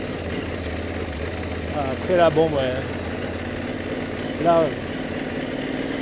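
A pit bike motorcycle runs in first gear on dirt terrain, its engine a steady close drone throughout, with brief louder revving swells around the middle and near the end while someone talks over it.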